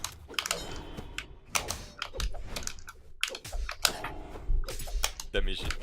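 Computer keyboard keys clatter in quick, uneven bursts during a Brawlhalla match, close and crisp, with occasional muffled mouth sounds between the clicks.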